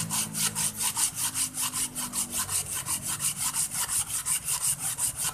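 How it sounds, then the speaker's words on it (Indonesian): Long sandpaper scraped back and forth over a flat glass surface, part of checking a motorcycle engine part, giving steady rhythmic rasping strokes about four per second, close and continuous throughout. "Nah udah kita gesek ya."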